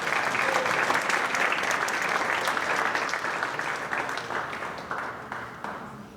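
An audience at an awards ceremony applauds loudly and steadily, a dense wash of clapping with some cheering that holds for several seconds and then slowly fades.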